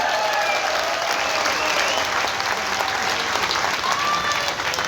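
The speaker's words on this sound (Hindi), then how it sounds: "एक बार ताली बजाकर इनका स्वागत करें।" Sustained applause from a large crowd at a political rally where Amit Shah is speaking, a loud, even roar of clapping that holds steady throughout.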